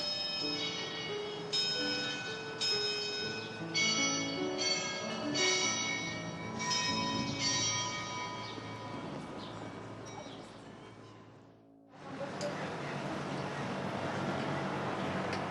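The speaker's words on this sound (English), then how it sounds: "The bells are ringing." Church bells ring in a long, resonant series of strikes over distant ambient noise, then give way to a steady background hum.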